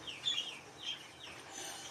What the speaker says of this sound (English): Chicken alert!